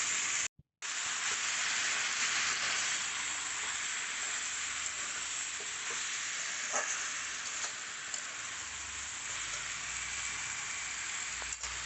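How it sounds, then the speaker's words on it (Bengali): Sliced bottle gourd sizzles in hot spices in a pan while it is stirred, giving a steady, loud frying hiss with faint scraping, after a brief dropout near the start. "এবার মশলার সঙ্গে লাউ দিয়ে দিলাম, দিয়ে ভালো করে একটুখানি নেড়ে নেবো।"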